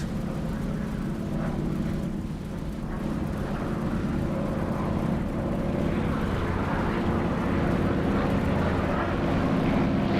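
A P-47 Thunderbolt radial engine warms up with cowl flaps open in DCS World, a loud, steady, deep droning rumble that holds constant throughout without talk.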